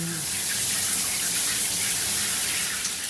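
Rain shower head running in a Yacht Club suite bathroom aboard the MSC Seashore cruise ship, a steady, close, even hiss of falling water throughout with no talking.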